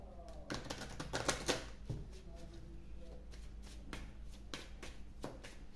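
Tarot cards are shuffled by hand in quick, riffling bursts of papery flutters and soft taps, close and fairly quiet, with faint speech in the background.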